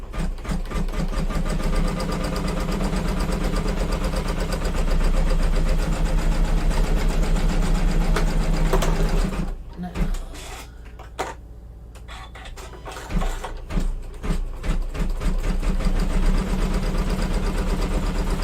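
An embroidery machine stitching a felt box, a steady loud mechanical whir with rapid rhythmic needle clatter, briefly stopping and then resuming in short bursts.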